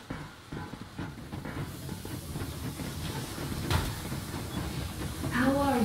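The steam train Aurora in Metro Exodus pushes ahead with a steady low rumble and hissing steam, rhythmic rolling noise throughout and a brief higher tonal sound near the end.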